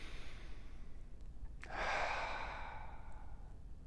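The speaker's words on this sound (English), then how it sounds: "take a deep breath and do it consciously" A single slow, deep conscious breath taken in a quiet room, a soft airy inhale swelling then easing out over a few seconds, faint and close with no talking.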